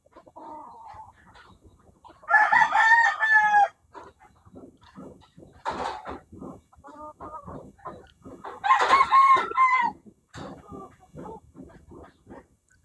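A Papay Gray over Golden Boy gamefowl rooster gives two loud, drawn-out crows several seconds apart, with softer clucking and someone talking in the gaps.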